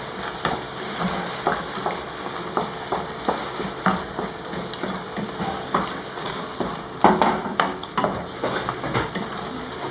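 Minced meat fries in a pan while being stirred, with a steady sizzle broken by regular scraping strokes of the spoon against the pan, close and alone.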